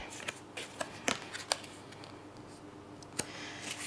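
Tarot cards being shuffled give quiet, close, papery flicks and snaps in scattered bursts, a few sharper slaps standing out over a soft, steady room hiss, with no voice.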